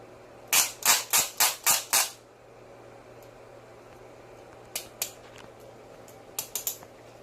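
A torque wrench clicks repeatedly while tightening bolts on a Toyota Prius high-voltage battery, a quick run of six sharp clicks followed later by a few fainter ones.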